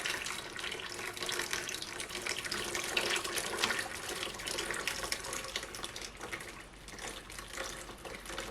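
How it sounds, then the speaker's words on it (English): Lye water is poured off a spoon into soap batter while making soap, giving a steady, soft liquid trickle and splash that runs the whole time at moderate, close level with no talking. "I'm pouring my lye into my spoon."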